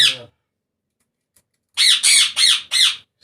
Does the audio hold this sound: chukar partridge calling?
yes